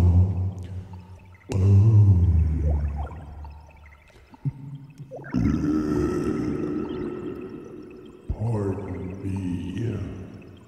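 A humongous whale spouting in the water gives long, low, moaning calls, several drawn-out swelling cries separated by short pauses, loud and close with nothing else over them.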